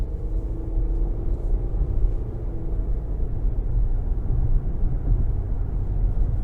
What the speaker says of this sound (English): I'll give it a little throttle